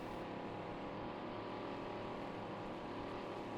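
John Deere 8020 tractor engine in the video game Farming Simulator 19, a steady, dense, moderately quiet engine drone with a harmonic hum, continuous and unchanging throughout, with no talking.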